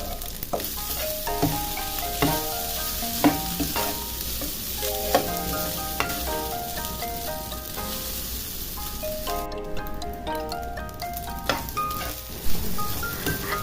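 Day-old rice stirred with garlic in a hot pan sizzles steadily, with a busy scatter of scraping utensil clicks and stirring taps running throughout; no one speaks.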